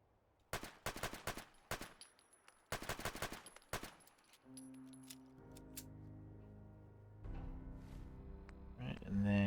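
Automatic gunfire in Fallout 4, two sharp bursts of rapid shots in the first four seconds, followed by mechanical reload and weapon-handling sounds with a humming tone, then louder rising game noise at the end.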